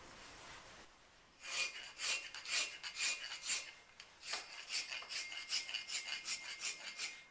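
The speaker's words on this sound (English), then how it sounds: "remove all the marks made by the flat chisel with a rasp" A rasp files across a stone carving to clear flat-chisel marks, making steady, close scraping strokes in a quick back-and-forth rhythm that starts after a brief quiet moment and runs unbroken to the end.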